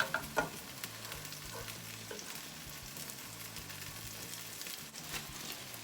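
Quesadillas frying and browning in a pan give a quiet, continuous sizzle with faint scraping, heard alone without talk.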